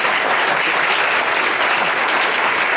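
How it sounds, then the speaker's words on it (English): Loud, dense applause from an audience for a corporate panel discussion, continuous and close throughout. "Well, give them a round of applause."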